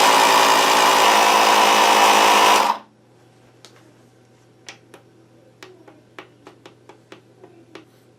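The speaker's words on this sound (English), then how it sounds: "Okay, I have my pump set at 35 psi." An electric air pump buzzes loudly and steadily for nearly three seconds while inflating a tire to 35 psi, then cuts off abruptly, leaving a faint hum and a series of small clicks and taps.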